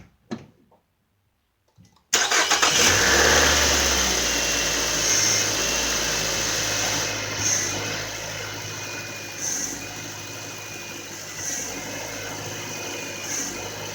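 A Nissan Altima 2.5 engine cranks and catches after a short quiet moment, then settles into a steady close idle with a constant hum and faint whine running to the end.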